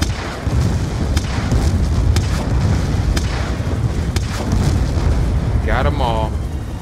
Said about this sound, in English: Drop the bombs on your five here.